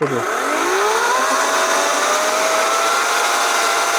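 A small motor whines up to a high, steady buzz and holds it, close and loud, a Sequoia SBC4014BSO cordless chainsaw running without cutting.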